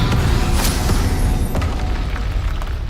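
A Confringo blasting spell explodes in Hogwarts Legacy as a loud, sustained booming rumble that roars steadily for the whole moment with no break.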